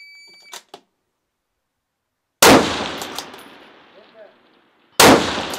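A .308 rifle with an 18-inch barrel and muzzle brake fires two loud, sharp shots with echoing tails, preceded by two faint metallic pings of bullets striking a steel target.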